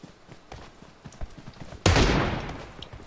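A single loud gunshot in PUBG Mobile rings out after a stretch of faint footsteps and small clicks, then leaves a long, fading echo.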